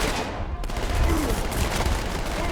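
Gunfire in the video game Halo 2 from the Master Chief Collection, a dense rattling fusillade of rapid shots sustained for a couple of seconds, loud and close.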